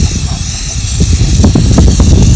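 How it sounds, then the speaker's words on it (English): Spray paint hissing from an aerosol can onto an old gumball machine, a loud close continuous hiss with short bursts and sputters. "I'm about to spray paint the candy machine"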